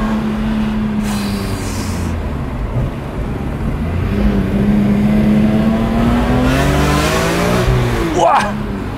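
BMW M3 E46 engine revving hard while accelerating with both windows open, a loud rising tone that climbs through gears to a sharp peak near the end.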